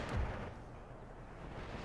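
Artillery fire in the Empire: Total War Darthmod battle, a single faint boom at the start, then a low rumbling battlefield bed.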